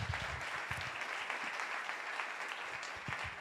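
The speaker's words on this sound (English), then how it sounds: "give a lot of love and applause to Bruno" A live audience welcomes a guest with steady applause, many hands clapping at a fairly low level throughout, an even wash of claps with no speech on top.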